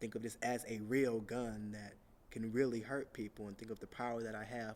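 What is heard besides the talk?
No everyday noises stand out.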